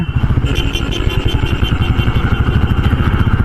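A motorcycle at a red traffic signal in Medinipur town gives a loud, close, steady rhythmic engine chug that throbs evenly throughout, with no talk over it.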